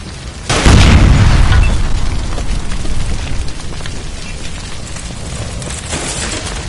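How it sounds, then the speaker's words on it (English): A gas line ruptures by a kitchen stove in the video game L.A. Noire, bursting into a loud, close boom that rolls into a long roaring rumble of fire and debris before slowly thinning out. "Shoot the gas line, Cole, we're out of here!"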